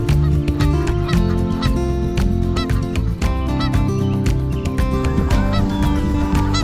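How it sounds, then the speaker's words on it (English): A flock of Canada geese honks loudly and continuously overhead on a farm in fall, many overlapping calls close and dense throughout. "That's a sign of fall right there. Canadian geese."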